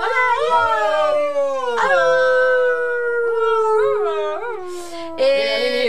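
A human voice imitates a chorus of wolves howling, with long, sustained wavering howls that rise and fall, overlapping one another loudly and close up.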